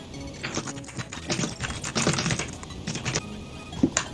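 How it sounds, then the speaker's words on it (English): Rapid, forceful keystrokes on a mechanical keyboard clatter in dense bursts during a speedrun of a Hamtaro game, close and fairly loud, with no talking. "I heard a lot of aggressive typing."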